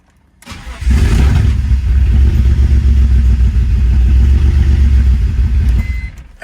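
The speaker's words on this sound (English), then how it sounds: "it sounds clear when I start it, but then it wants to break up" BMW E46 coupe engine cranking and catching, then running loud and rough, its steady idle breaking up and stumbling with the MAF sensor unplugged, close up and with no one talking.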